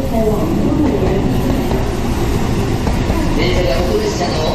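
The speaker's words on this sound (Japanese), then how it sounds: "The train at platform 4 is bound for Central Japan International Airport." A Meitetsu train rumbles loud and close along the platform at Kanayama Station, a dense continuous rolling roar with light rail clatter while a station announcement plays over it.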